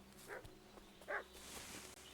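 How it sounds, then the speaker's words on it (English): A dog barks twice in a video game, faint and somewhat distant, with short gaps of quiet ambience between the barks. "I hear barking."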